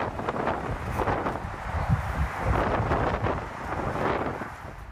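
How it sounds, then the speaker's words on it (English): Strong wind gusts in Southern California's Inland Empire roar steadily into the microphone for the whole stretch, a heavy, rumbling buffeting that swells and eases with each gust while trees thrash, with no voices. "So certainly strong winds."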